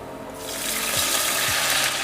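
Water poured into a hot pan of sautéed garlic, a broad hissing, rushing wash that swells after a quiet start and holds steady at close range.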